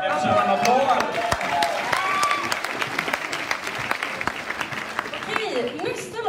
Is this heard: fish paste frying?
no